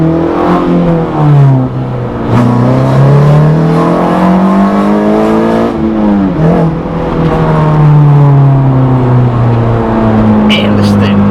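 A Honda Integra Si engine with a suspected blown head gasket revs hard and climbs through the gears, loud and close from inside the car, its pitch rising and falling between shifts.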